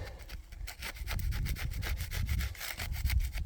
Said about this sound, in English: I'm going to take the scraper here again, see what else I can get off